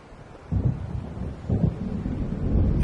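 Deep thunder rolls across Cauldron Lake in Alan Wake Remastered as a storm approaches, two low booming swells arriving about a second apart over a steady windy rumble, fairly loud and close with no voices.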